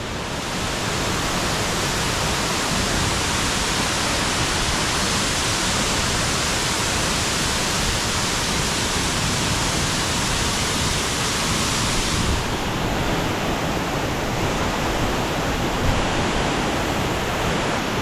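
A waterfall in Bali: a steady, heavy roar of rushing water fills the whole stretch, loud and unbroken from start to finish, with no voices.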